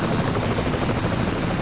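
A video game helicopter in Dead or Alive: Dimensions thrums with a loud, continuous rotor chop and engine drone, filling the whole moment without any voices.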